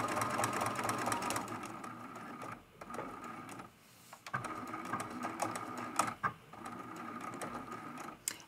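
A sewing machine stitches a quilting line on an art quilt, running in a fast, even mechanical rhythm close by, pausing briefly twice before starting up again.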